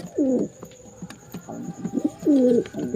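Two clear bursts of Giribaz pigeon cooing, near and loud, with softer throaty coos and light clicks between them.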